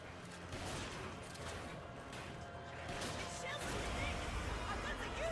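Gunfire in Resident Evil 5 as shots are fired at the U8 creature, a dense, continuous barrage of game weapon fire with crashing impacts and busy noise throughout.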